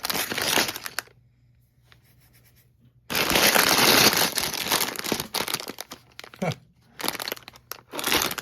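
A bag of small plastic parts is handled and crinkled, with bursts of crackling between quiet pauses.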